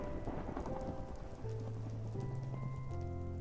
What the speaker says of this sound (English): Please don't rain the entire day.